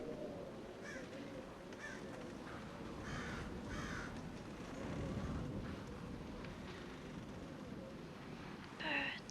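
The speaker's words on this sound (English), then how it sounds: "Birds." Crows cawing outdoors, several harsh calls scattered across the stretch over a steady breeze and low background rumble, with a sharper, closer call near the end.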